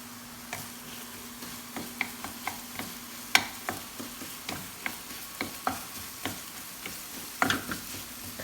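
Potatoes and eggs fry softly in a pan while a utensil scrapes and stirs them in a string of light, irregular taps over a quiet sizzle, with no talking.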